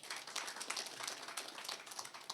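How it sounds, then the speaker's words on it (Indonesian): A Baptist church congregation claps during a worship service, a faint, distant patter of many hands with uneven individual claps standing out. "tepuk tangan dulu"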